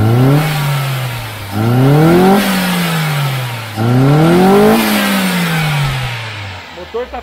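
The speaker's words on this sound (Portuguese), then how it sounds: "Motor tá afinando perfeito, tá, pessoal? Não tem falha no carro." A 2013 Ford Ka engine revs three times, each rise climbing in pitch and dropping back to a rough idle, loud and close in a workshop before settling at the end.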